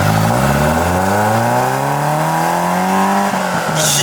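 A car engine revs loudly nearby, its pitch climbing steadily before dropping off, with no voices.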